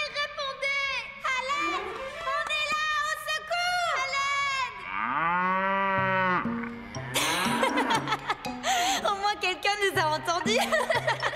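A cow moos repeatedly in an animated farm scene, long drawn-out lowing calls mixed with chuckling and other voices, fairly loud and close.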